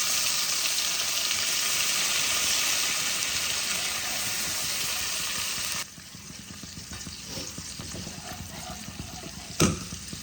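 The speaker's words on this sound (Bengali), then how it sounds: "অল্প জল দিয়ে কষাবো।" A ground paste of black cumin seeds and green chillies fries in a pan for an ilish fish curry, loud steady sizzling that drops sharply to a quieter bubbling hiss when a little water goes in, with a few stirring clinks.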